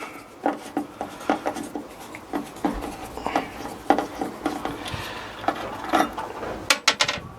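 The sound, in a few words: unfastening hook fasteners on a Vauxhall Vivaro van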